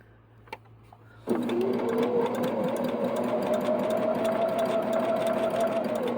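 A sewing machine hems a T-shirt, starting abruptly after a quiet moment and then running in a steady, fast continuous whir close by, alone without talk.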